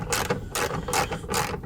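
A hand ratchet cranks on an old, damaged Nissan, giving a close, loud run of rapid clicking pawl strokes in three or four quick bursts, with no speech.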